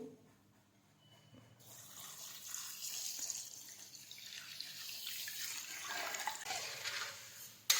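Water pours steadily into a pot with mawa and sugar for pedas, a hissing splash that starts softly and grows fuller and louder over several seconds.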